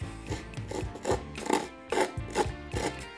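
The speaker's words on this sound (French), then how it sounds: "je vais limer, pas poncer" A hand file rasps back and forth along the edges of a homemade trophy, a soft close scraping in even strokes of about two per second with no talk over it.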